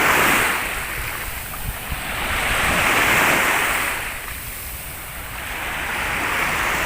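Sea waves break on the shore at Bang Saen beach in Thailand. The surf swells and recedes in a steady, loud wash, with wind rumbling across the microphone and no voices.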